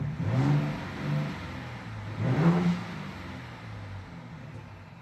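A 2023 Ford Bronco Raptor engine in Sport mode revs up in two swelling bursts, rising and falling loudly nearby, then settles back to a steady idle rumble.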